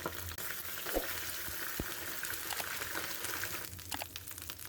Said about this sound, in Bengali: এখন আমি পেঁয়াজগুলো ভেজে নেব, যেন কাঁচা গন্ধটা না থাকে।